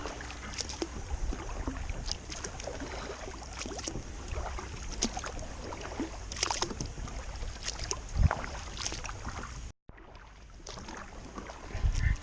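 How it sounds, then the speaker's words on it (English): Kayak paddling on a lake: rhythmic splashes and drips as the blades dip and pull, with knocks against the hull and light wind noise throughout, close to the microphone. "I'm going to paddle up a pretty good ways before I start fishing."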